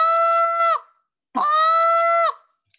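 Two long, nasal honking moans from a short reed goose call, each held for about a second with a sharp break at the end, separated by a short silence.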